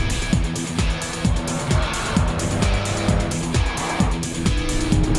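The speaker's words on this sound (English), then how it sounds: "Then the supercharged V6 3-litre TFSI engine kicks into life." An Audi with a supercharged 3-litre V6 TFSI engine switched into dynamic mode pulls hard, its engine note rising in repeated surges, each run climbing and then dropping as gears change, loud and close throughout.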